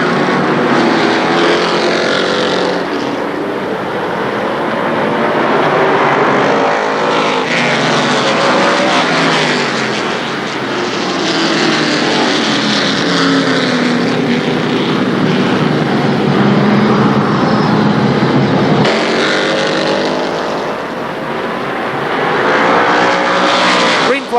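Race cars circling Shadybowl Speedway during the Neal Sceva Memorial, a loud buzzing engine roar that swells and fades as the pack passes, with an announcer talking over it.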